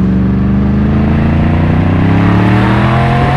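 A Yamaha MT10 motorcycle engine revs loudly and close, a rich roaring tone that climbs steadily in pitch over a few seconds, with no voices.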